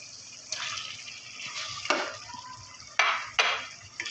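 Chicken stirred into fried masala in a pan for biryani, a sizzling bed under several scraping strokes and sharp spoon clinks against the pan, close and moderately loud, without talk.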